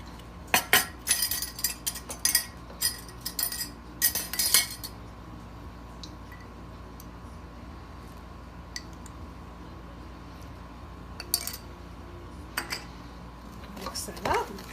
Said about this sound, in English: You can just stir it with a plastic spoon or a wooden spoon.